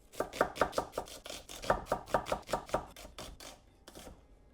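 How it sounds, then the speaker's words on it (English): A red onion being sliced with a knife on a cutting board, about fifteen crisp, rhythmic chops in quick succession, close and clear, slowing and thinning out toward the end. "I'm going to cut it into half and then slice it."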